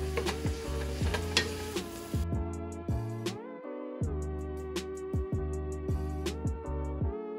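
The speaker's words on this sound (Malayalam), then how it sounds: "ഇതെല്ലാം കൂടെ കൂടി ഒന്ന് മിക്സ്" Capsicum, onion and carrot are stirred in a sizzling pan, with steady frying and scraping strokes running under prominent background music throughout.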